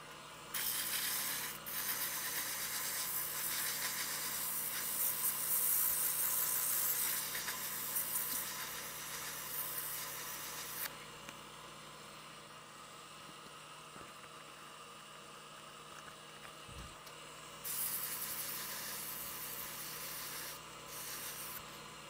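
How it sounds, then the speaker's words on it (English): Wood is sanded on a spinning lathe while turning a snowman, a loud steady abrasive hiss that stops midway over a low motor hum, then starts again. "Just a little bit of sanding."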